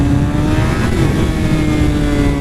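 Loud, steady motorcycle engine held at high revs as the throttle is jerked open for a power wheelie, a continuous droning roar with no letup.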